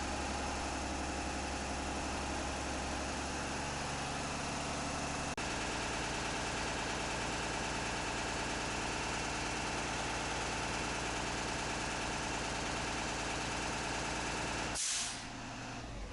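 School bus diesel engine idling at raised RPM while building air pressure to governor cutout, a steady loud drone with a sharp click partway through and a brief hissing air purge near the end.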